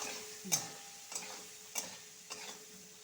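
Potatoes frying with turmeric in a pan, a faint low sizzle broken by four distinct spatula scrapes and taps spaced roughly every half second, no speech.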